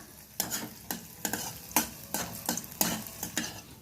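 Cashews and raisins fry lightly in ghee in a kadai for kesari, a low sizzle broken by about eight sharp, regular scrapes of a spoon stirring them, close and clear.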